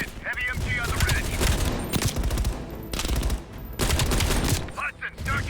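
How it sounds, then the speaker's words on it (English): Heavy machine gun in Call of Duty: Black Ops Cold War hammers away in long, dense bursts from a ridge, loud and close, with brief pauses between volleys and a voice speaking under the fire. "Heavy MG on the ridge."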